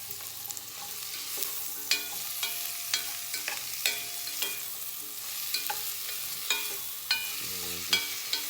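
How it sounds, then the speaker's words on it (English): Onions sweat down in a pan alongside browned chicken for a curry, giving a steady close sizzle broken by regular scrapes and taps of a stirring utensil, with no talking. "I'm going to add in the onions. And we want to get those cooked down."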